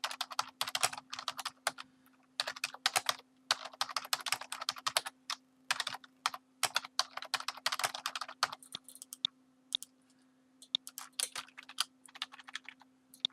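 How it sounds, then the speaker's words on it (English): Rapid typing on a computer keyboard, close and clear, in quick clattering bursts broken by short pauses, alone over a faint steady hum. "we can just type in what we want"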